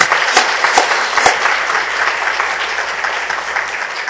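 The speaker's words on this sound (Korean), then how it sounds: "한번 감사의 박수 한번 보내면 좋겠습니다." A church congregation claps in thanks after a male vocal ensemble sings, giving loud, sustained applause with a few sharp individual claps standing out near the start before it evens into a steady wash.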